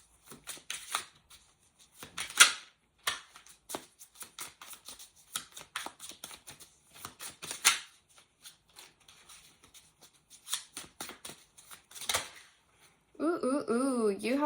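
Tarot cards being shuffled by hand in bursts of crisp riffling and slapping, near and fairly loud, with short pauses between passes and a brief different rattling sound at the very end.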